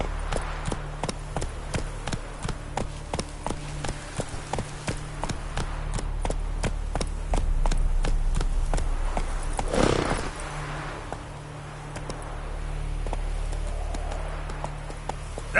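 Roach the horse gallops in The Witcher 3, a fast, steady rhythm of close hoofbeats that carries through most of the stretch, with a brief whoosh and some wind behind it.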